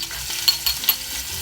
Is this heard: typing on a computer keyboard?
no